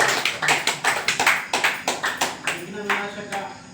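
A small crowd at an ashram gathering claps in thanks, a short run of brisk, fairly close hand claps with a voice faintly underneath.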